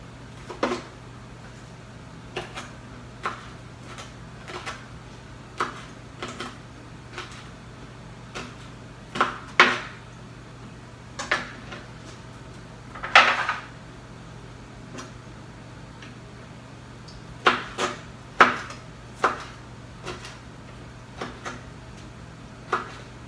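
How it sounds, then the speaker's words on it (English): A knife chopping pepperoncini peppers into small pieces on a cutting board, sounding as sparse, sharp ticks at irregular intervals over a steady low hum, close and without talk. "So you're just going to cut them in some small pieces."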